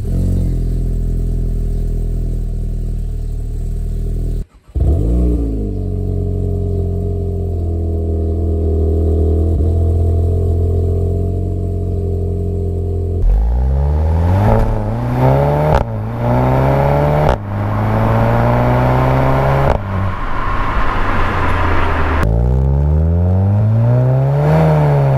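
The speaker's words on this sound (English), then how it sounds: "there's definitely a bit more of exhaust noise" A 2017-era MK7.5 VW Golf GTI Performance in normal mode: steady engine drone and exhaust note, then loud repeated revs rising and falling through gear changes, close and alone with no talk.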